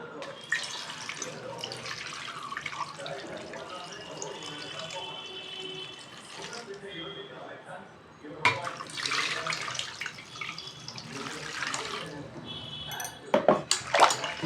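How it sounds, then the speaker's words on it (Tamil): Kalyana murungai leaves being rinsed in water in a home kitchen, a steady stream of running and sloshing water with splashy bursts toward the end, close and continuous. "இப்போ இதை தண்ணி ஊற்றி நல்லா அலசி எடுத்துக்கலாம்"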